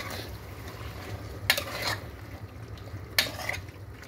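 Squid frying in a pan for adobong pusit sizzles softly and steadily, with two distinct clatters of a utensil stirring against the pan.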